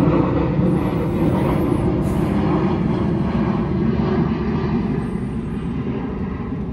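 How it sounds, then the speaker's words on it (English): A fixed-wing airplane drones overhead with a steady, loud, low engine roar that holds evenly and eases slightly toward the end, heard outdoors in a yard. "we got a plane above me"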